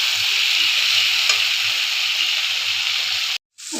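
Mustard-poppy seed paste sizzles in a frying pan while drumstick and potato cook for a chachchari, making a strong, steady hiss close by that cuts off abruptly near the end.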